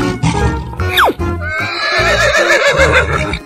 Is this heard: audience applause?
no